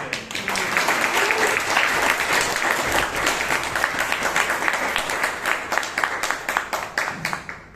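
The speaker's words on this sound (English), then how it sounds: "Please welcome, with a loud thundering round of applause, Toastmaster Vivek" A Toastmasters club meeting audience in Bangalore bursts into loud, dense applause that holds steady for several seconds, then breaks into fewer, more distinct claps as it fades.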